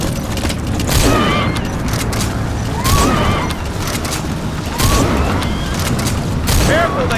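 Battle scene in the Metal Gear Solid V video game: repeated heavy booms and bursts of gunfire roughly every two seconds, loud and close, layered over a dense rumbling background with rising whooshing tones.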